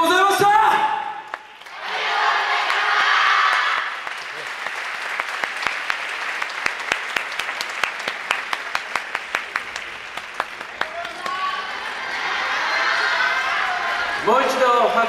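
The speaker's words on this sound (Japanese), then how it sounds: "もう一度拍手お願いします。" An audience applauds at a YOSAKOI Soran dance festival: a swelling roar of clapping, then a stretch of rhythmic unison claps, rising again into broad applause, with a voice speaking at the start and end.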